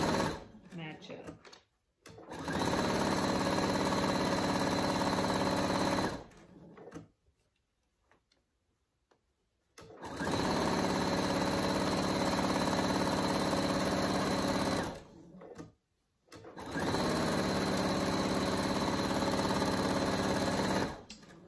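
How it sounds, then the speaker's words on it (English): A sewing machine stitches a seam on a fabric kangaroo pouch in three long, steady whirring runs, separated by short pauses, one with quiet handling of the fabric; loud and close, no voices. "Continue to sew and making sure that the edges match up."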